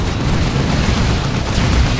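Rumbling, overlapping explosions from Whirlwind missile strikes in Dawn of War 2, a Space Marines versus Tyranids match, a steady heavy roar of blasts with no pauses.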